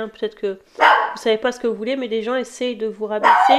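A dog barks repeatedly indoors, with sharp yips breaking in now and then while someone speaks French over them.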